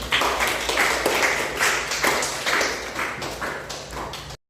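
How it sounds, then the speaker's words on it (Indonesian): Students in a classroom applaud a classmate, steady close-up clapping with uneven accents that continues for about four seconds before stopping abruptly. "Silakan beri aplaus kepada Katri."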